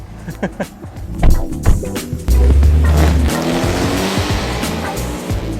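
A Mercedes-AMG GT 53 with 430 horsepower pulls away: a few sharp engine blips, then a loud, sustained low exhaust drone as it accelerates off, with no talking.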